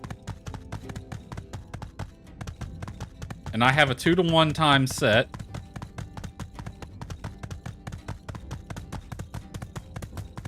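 A horse ridden in a video game clip-clops at a steady, quick trot with evenly spaced hoofbeats from start to finish, while a person speaks briefly partway through.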